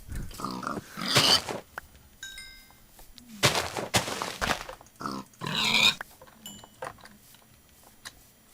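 Grunting pig sounds in Minecraft come in short bursts amid bangs and scattered game noises, with loud hits breaking in between.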